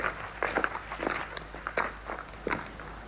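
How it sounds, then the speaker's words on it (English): Footsteps cross an ancient stone square amid ruins thought to be some 4,000 years old, with about half a dozen crisp, moderately close steps at an unhurried, slightly uneven pace over a faint, steady background hum. "The sound of my own footfall"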